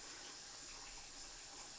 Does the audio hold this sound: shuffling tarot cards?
no